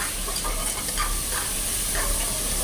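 Chopped onions sautéing in oil in a pan for a quail gravy, a steady close hiss and sizzle with faint soft stirring scrapes and no talking.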